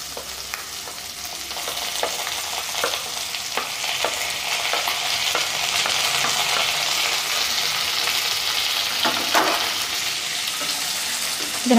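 Onions sizzle and crackle steadily in a hot pan for mushroom gravy, with occasional stirring scrapes over a continuous frying hiss.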